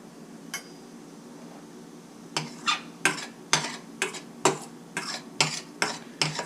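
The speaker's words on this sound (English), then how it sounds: "then we will add zira, cumin seeds," Cumin seeds roasting in oil over low to medium heat: a quiet pan at first, then a run of about ten sharp crackling clicks from midway on, close and fairly crisp.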